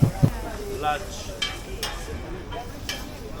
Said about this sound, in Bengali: এদিকে ধোসা তৈরি হচ্ছে